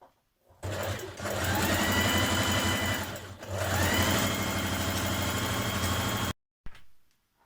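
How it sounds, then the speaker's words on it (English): A sewing machine runs close up, stitching long gathering lines along a dress skirt in a rapid, even whirring rhythm, pausing briefly once before finishing and stopping with a short final burst. "you're going to sew all the way along and leave your ends running free"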